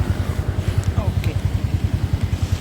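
A Grab bike taxi's motorcycle idles close by in Vietnam, its engine putting out a steady, rapid low thumping pulse that stays even and loud throughout the short stretch.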